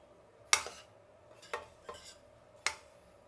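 Roasted semolina (rava) is stirred in a pan with a metal spoon, producing four or five distinct scraping clinks spaced about a second apart over a quiet background.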